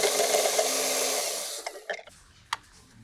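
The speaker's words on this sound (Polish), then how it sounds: "Zblenduj czosnek w blenderze." A kitchen blender whirs loudly while blending garlic for a chicken breast sauce, a dense steady roar for about a second and a half before cutting off, followed by a few short clinks and knocks.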